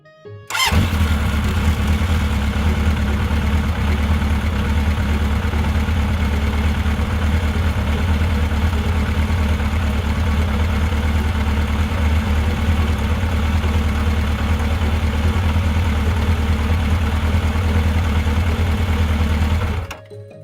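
A toy-demo motorcycle engine idles steadily and loudly for about twenty seconds, a constant low rumble that starts abruptly and cuts off at the end, with no talking.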